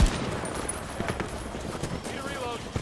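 Rapid gunfire crackles in bursts through a Battlefield 2042 match, under someone shouting urgently.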